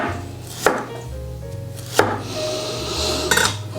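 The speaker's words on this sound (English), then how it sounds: "all we're going to do is we are going to slice these really thinly" Radishes being sliced thinly with a knife on a cutting board: a few sharp, distinct chops spaced apart, close and clear, with faint kitchen background and no voices.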